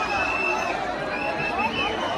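Dense crowd chatter fills the air at the Ekvira Aai temple palkhi procession during the 2024 jatra, a steady murmur of many overlapping voices close by.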